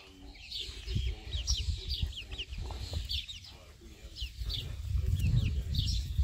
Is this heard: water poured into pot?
no